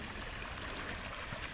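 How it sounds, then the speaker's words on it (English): A small mountain stream, Scott's Run Creek, flows in a steady, continuous broadband rush of water with no clear pauses, fairly soft and even throughout. "Nice little mountain stream."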